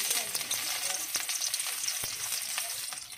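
Garlic, onion and ginger sautéing in a pan over a wood fire, a steady dense sizzle with a few sharp crackles and pops, close and continuous with no voices.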